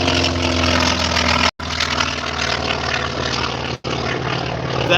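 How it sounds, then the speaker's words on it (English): A World War II plane's radial engine roars loud and close in a steady, throbbing drone, broken twice by brief cut-outs in the sound. "That was one of those rotary engines, you guys. That's why it was so loud."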